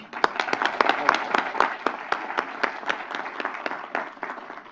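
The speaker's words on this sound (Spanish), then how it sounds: "Les pido a todos un aplauso" An audience at a forum on poverty and disease claps in a room, individual sharp claps standing out over a fuller patter that swells and then thins toward the end.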